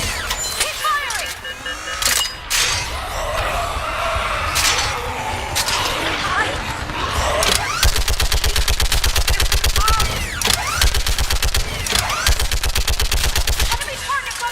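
Sustained gunfire fills a Mass Effect Legendary Edition battle: scattered shots and bursts early, then a long, rapid automatic stream of loud, close rounds, with voices calling out over the combat.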